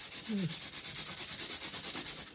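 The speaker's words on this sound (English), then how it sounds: "keep sanding it down" Rapid, rhythmic scratchy rubbing strokes of sanding a small clear lens made from an egg, close and steady, repeating several times a second.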